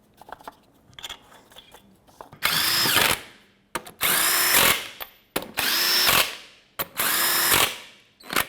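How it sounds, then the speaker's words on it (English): Impact wrench or drill on lug nuts of a Chevrolet Express 3500 van wheel, four loud whirring bursts of about a second each, separated by short pauses, with faint clicks of handling before them. "Put all your lug nuts on, bottom them out"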